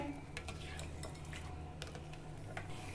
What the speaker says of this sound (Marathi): आता आपल्याला हे व्यवस्थित मिक्स करायचं आहे